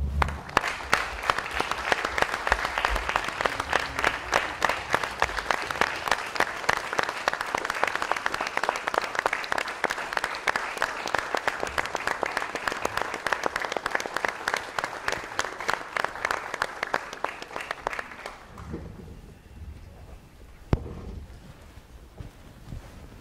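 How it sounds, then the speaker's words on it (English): Sustained applause from an audience at a Rockland school committee meeting honoring a teacher who earned her certificate, steady dense clapping for about eighteen seconds before fading into a quiet room with a few stray sounds. "I would like to give her a round of applause"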